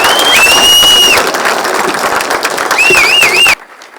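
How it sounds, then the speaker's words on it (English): A crowd applauds Kenya's Olympic team at a presidential welcome ceremony, loud sustained clapping with whistles and cheers rising over it, cutting off abruptly near the end. "Let's give a wonderful round of applause."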